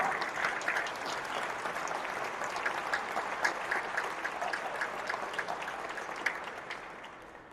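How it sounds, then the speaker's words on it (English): Steady crowd applause for sponsors at a live gathering, a sustained mass of clapping with distinct individual claps at a fairly even level that tapers off at the end. "Give them a round of applause."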